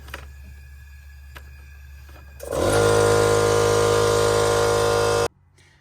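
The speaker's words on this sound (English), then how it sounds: "My compressor kicked on." In a garage during engine diagnosis on a 2nd-gen Toyota Sequoia, an air compressor abruptly kicks on and runs with a loud, steady mechanical drone for about three seconds, then cuts off sharply. There is no talking.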